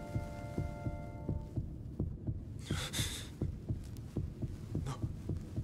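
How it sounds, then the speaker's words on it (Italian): A steady heartbeat sound effect from the anime Beastars thumps in a regular, fairly quick rhythm, close and prominent, under a fading low hum and a brief breathy gasp. "Il battito del tuo cuore sta facendo eccitare anche me"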